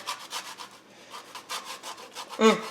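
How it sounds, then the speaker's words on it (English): An orange being zested over a bowl of cranberry sauce, giving a quick run of soft, rhythmic rasping strokes close by, ending in one slightly louder scrape, with no talking. "We're gonna zest that orange in there."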